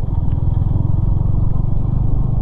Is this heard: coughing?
no